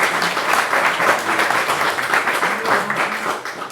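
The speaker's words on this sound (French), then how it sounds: "On l'applaudit bien fort." An audience at a Lego fan convention in Lyon claps steadily and warmly, the dense applause holding for several seconds with a few voices mixed into the crowd noise.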